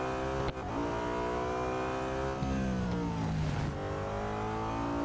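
Engine of a BMW M3 GTR street-spec racing car in Real Racing 3, a continuous loud high-revving drone shifting pitch as the car accelerates and changes gear, close and without talk.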